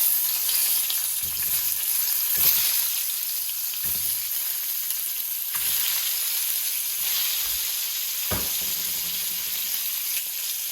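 Eggs frying in a pan for egg bhuna, a steady bright sizzle running throughout, with occasional soft scraping and stirring knocks from a spatula, close and even in level.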